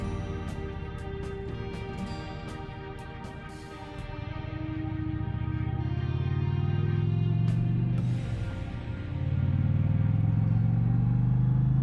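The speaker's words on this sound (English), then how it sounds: "You guys hear that engine?" An Indian Challenger motorcycle engine idles with a steady, rough rumble close by, then revs and rises in pitch before settling into a louder, sustained drone. Occasional clicks punctuate it.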